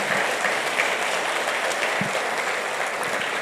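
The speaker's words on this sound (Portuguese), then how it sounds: "Vamos aplaudir Jesus por isso?" Church congregation applauding in a steady, dense wash of clapping that fills the room at an even level, with no talk over it.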